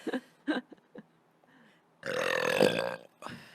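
A long, loud, close burp lasting about a second, preceded by a few short voiced bursts and followed by a brief exhale.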